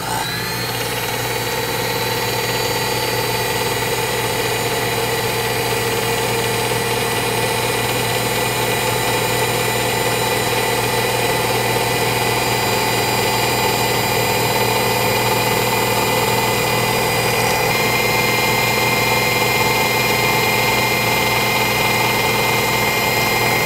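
Small drill boring holes into plastic model kit parts still attached to the sprue, a loud, steady motor whine holding level for over twenty seconds with no talk.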